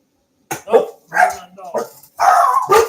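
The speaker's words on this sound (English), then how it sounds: "Oh, my dog's going off" Pet dog barking near and loud in a rapid irregular string of sharp barks and yips at home, with no voices over it.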